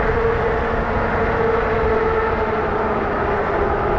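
Fat e-bike with a BBSHD mid-drive motor and Luna Ludicrous V2 controller running at 2500 watts: a steady motor whine sits inside continuous rushing wind and road noise, loud and even throughout, with no talking.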